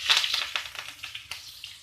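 Curry leaves crackling and sizzling in hot oil during tempering for curd vadas, a quiet close spitting and popping with brief sharp bursts over a steady low fry, no voices.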